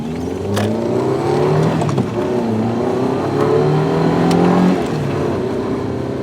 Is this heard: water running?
no